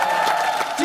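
Brief burst of audience clapping and crowd noise in a TV contest-show studio, lasting under a second at steady moderate loudness.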